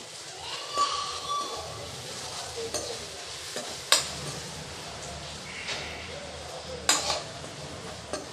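Ground garlic spice powder frying with onion and tomato for garlic rice, heard as a soft sizzle under repeated stirring, with a ladle scraping and clinking against the pan a few times, including two sharper knocks.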